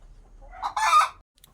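Local backyard chicken calls once, a single loud rooster-like crow or drawn-out cluck lasting about half a second, close by, followed by quiet.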